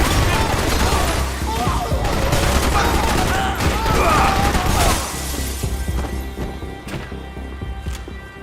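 Heavy gunfire in a morgue shootout in Max Payne 3, loud rapid bursts mixed with shattering glass and crashes, then easing into scattered, fainter shots and clatter while voices shout underneath.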